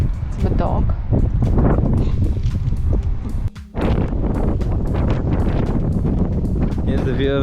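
Wind on a hilltop park in Edinburgh buffets the microphone in heavy, loud gusts, with a brief lull midway, while people talk throughout.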